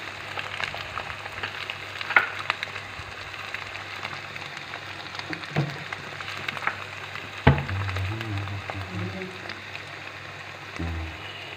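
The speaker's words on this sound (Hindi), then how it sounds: "हमने क्योंकि प्याज थोड़ी सी फाइन अच्छी प्याज काटनी है वो आपने अब इसमें ऐड कर देंगे।" Finely chopped onions sizzle softly in a pan for keema, a low steady crackle with a few clinks and stirring knocks, while someone talks over it.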